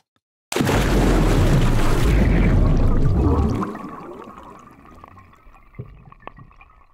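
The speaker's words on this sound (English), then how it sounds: "we also have some water effects as well" A water sound effect for a plane crash scene: a sudden loud crash of rushing water surges for a few seconds, then fades into quieter trickling with scattered drips.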